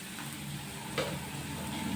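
Asafoetida dropped into hot oil for tempering crumbled millet flatbread gives a faint, even sizzle with a single soft click midway, quiet and without talk.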